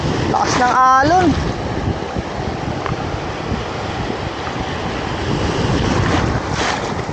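Strong ocean waves surging onto the shore on a fishing trip, a loud continuous roar with heavy wind noise on the microphone and a brief excited shout near the start.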